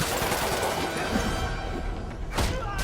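Gunfire during a combat scene in the Sony Spider-Man video game, a dense burst of rapid shots and thuds over a loud, busy background with a sharper crack near the end.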